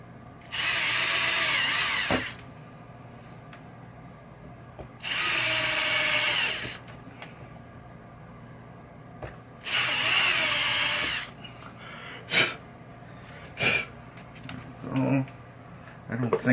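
Three short bursts of a whirring power drill making small screw holes, each lasting a second or two with quiet gaps, followed by a few sharp knocks and clatters, during Bally Zenon pinball playfield wall art work.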